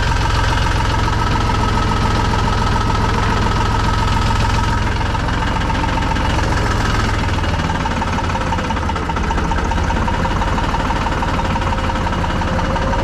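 A tractor engine idles fast and loud nearby, its idle set too high, its steady, knocking diesel rumble continuing throughout with no voices.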